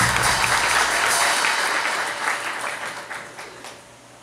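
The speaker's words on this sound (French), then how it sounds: "Applaudis." Applause from a church congregation at a Good Friday service, a steady wash of clapping that fades gradually over a few seconds.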